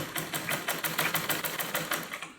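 Fast, even stitching from a sewing machine running through cloth, a close rhythmic clatter of needle strokes at a constant pace for a couple of seconds.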